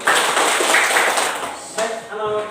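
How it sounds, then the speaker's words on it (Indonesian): A group of children clap their hands together in a dense, fairly loud burst that lasts under two seconds before a voice takes over. "Tepuk tangan dulu."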